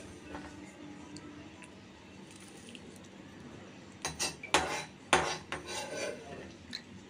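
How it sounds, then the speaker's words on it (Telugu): A spoon scrapes and clinks against a pan while tempering is mixed into gongura for gongura chicken, faint at first, then several louder metallic knocks and scrapes close by in the second half. "తాలింపు అంతా గోంగూరకి కలిసే విధంగా ఒక స్పూన్ సహాయంతో మళ్ళా మనం దాన్ని అంతటిని కూడా మిక్స్ చేసుకుందాము"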